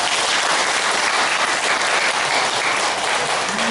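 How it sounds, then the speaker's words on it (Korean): A gathered audience at a Buddhist dharma talk breaks into loud, dense clapping that fills the whole stretch evenly, close and continuous without speech. "박수 한번 주세요."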